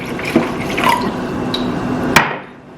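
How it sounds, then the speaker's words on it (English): Water being poured into a glass in an apartment kitchen, making a steady close trickling fill with a few sharp clinks of the glass. "Let me take a glass of water."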